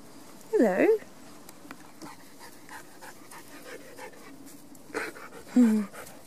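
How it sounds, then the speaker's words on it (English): Out in a woodland, a dog lets out a couple of brief, close whimpering yelps with soft breathy panting between them, over quiet outdoor background. "There's quite a few dogs here. Obviously, someone's out on the walk with their dogs."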